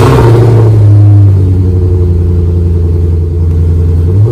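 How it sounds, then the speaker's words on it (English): A Maserati GranSport engine with its exhaust valve open rumbles loudly and deeply up close, a brief rev easing into a steady, throaty idle. "it opens a valve, so this car sounds amazing"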